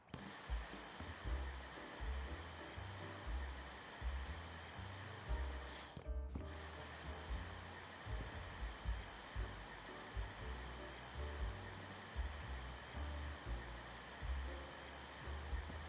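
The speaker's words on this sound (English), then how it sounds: "And we need a vacuum," A vacuum cleaner in the video game House Flipper 2 runs as a steady, close whirring roar with a faint rhythmic pulsing underneath. It cuts out for a moment partway through, then starts up again at the same level.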